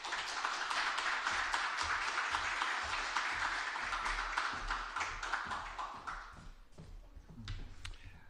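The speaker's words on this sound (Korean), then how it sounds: "우리 나오실 때 박수로 환영해 주시기 바랍니다." A church audience applauds as a guest lecturer walks in, a broad, steady wash of many hands clapping that thins and fades toward the end, leaving a few scattered claps.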